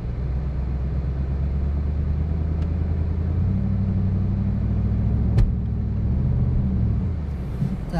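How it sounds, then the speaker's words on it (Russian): A 14-year-old Range Rover with a briefly warmed engine pulls away from a standstill, its steady low engine rumble holding close and even for several seconds before a slight rise near the end. "Так, машина сдвинулась."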